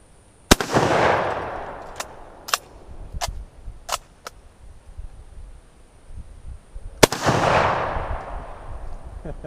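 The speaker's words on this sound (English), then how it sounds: "We're gonna blast some lead down that way." Two loud, sharp gunshots from a No4 Mk1 Enfield rifle fired outdoors, each with a long rolling echo, separated by several seconds with a few fainter clanks of the bolt in between.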